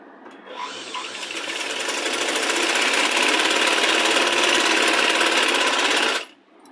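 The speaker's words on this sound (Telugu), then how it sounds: "ఇప్పుడు ఇక్కడ నుంచి ఇంకో ఫోల్డింగ్ చేసుకొని స్టిచ్ వేసేసుకోవాలి" A sewing machine runs a continuous stitch along a folded hem on a child's Punjabi dress top, a fast steady mechanical rattle building up, holding loud and close, then stopping abruptly.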